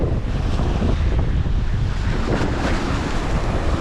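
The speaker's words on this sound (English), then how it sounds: "the water seems very rough today" Rough sea surf churning and splashing against the shore on a windy night, a dense, continuous roar with wind buffeting the microphone and no voices.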